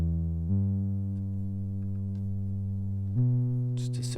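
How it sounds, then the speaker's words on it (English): A Serum synthesizer preset playing a sustained sine-based bass tone in a music production breakdown, holding steady pitches with a step up near the end as the wave shape is automated, ending with bright hi-hat-like hits from a top loop. "Just a simple Serum preset, automating the weight position on the sine wave here."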